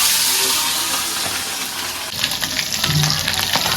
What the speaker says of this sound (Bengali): ডিম একেবারে টাস টুস করতে আছে, গায়ে যাইয়ে পড়ে